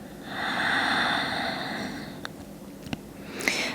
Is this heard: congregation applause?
no